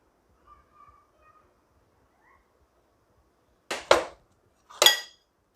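A spoon clinks and scrapes in a bowl while chaat masala is mixed into food during no-fire cooking, two short bursts of sharp metallic clatter after near silence.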